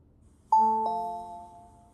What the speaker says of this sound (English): Click Yes if you could hear the bell,